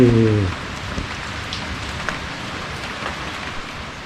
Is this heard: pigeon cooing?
no